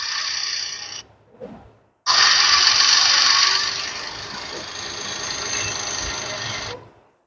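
A faulty cooling fan motor on a Perodua Viva 1.0 car whirs steadily, cuts out briefly, then kicks back in loudly and keeps running before stopping abruptly, sounding uneven and intermittent.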